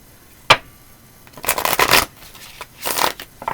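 A deck of tarot cards is shuffled by hand, starting with a sharp tap, then two riffling bursts of papery flutter separated by brief pauses, close and clear with no talking.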